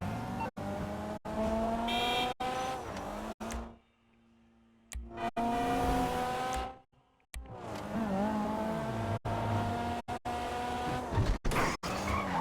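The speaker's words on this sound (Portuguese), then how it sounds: "esse carro é rápido, hein?" A fast car in the video game GTA V revving hard and skidding, with engine whine rising and falling through gear shifts, repeated tire squeals and brief cutouts, loud and close throughout.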